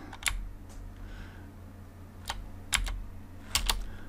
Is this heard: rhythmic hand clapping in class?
no